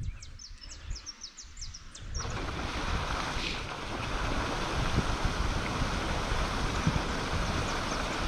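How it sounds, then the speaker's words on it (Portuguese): An aerator in an outdoor net-tank pond raising oranda goldfish kicks on abruptly after light birdsong, then churns the water loudly and steadily like rushing surf. "Liga o aerador aí."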